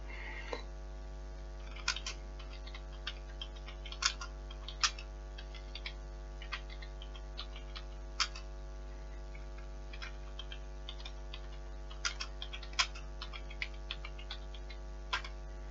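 Typing on a computer keyboard during a Typing Master 11 lesson: scattered soft key clicks, quiet and close, over a steady low electrical hum, with no talking.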